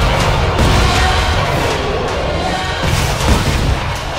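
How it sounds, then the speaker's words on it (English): Grenade detonations in the sci-fi horror game Dead Space 3, repeated low booming thuds and crashes rolling loud and close over a dense, busy din. "Grenade!"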